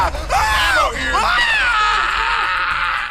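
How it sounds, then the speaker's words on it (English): A voice lets out a drawn-out, overacted death scream for video game voice acting, loud and close, wavering and groaning across several seconds. "Take one, death scream"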